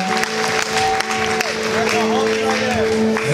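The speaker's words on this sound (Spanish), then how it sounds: "En este momento los aplausos." Quinceañera guests keep up a steady round of applause while music with a sustained tone plays over it and people talk through the clapping.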